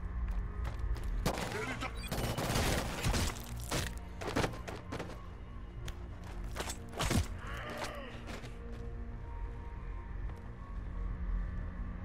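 Sporadic shots and heavy thuds in the Killzone Shadow Fall video game, irregular loud impacts over a low rumbling backdrop, with brief speech in between.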